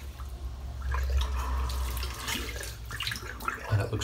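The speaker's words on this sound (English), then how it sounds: "Spin the tub under the hot water for a bit." Hot tap water streams steadily over a shaving soap tub as it is spun and rinsed under a faucet, a close, continuous splashing that rises and falls slightly.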